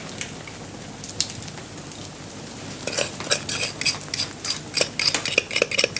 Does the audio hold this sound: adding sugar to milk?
yes